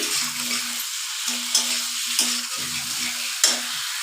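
Raw bottle gourd pieces fry in a pan for a fish curry, with a steady sizzle and repeated scraping strokes of stirring in a regular rhythm, close and moderately loud, with sharper clinks now and then.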